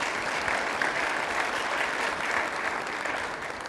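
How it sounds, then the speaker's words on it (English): An audience gives steady, dense applause at a high school athletics event, loud and sustained throughout, with no talk over it. "I'd like to give them a round of applause as well."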